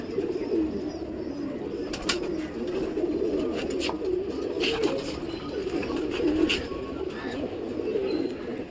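Pigeons, including adults and young chicks, coo in a low, steady murmur with soft overlapping calls, joined by a few sharp clicks or taps and faint background noise.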